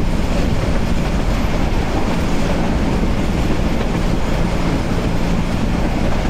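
A Balaka commuter train of Bangladesh Railway running at speed near Dinajpur, heard from on board as a loud, unbroken roar of wheels and carriage rumble with no voices over it.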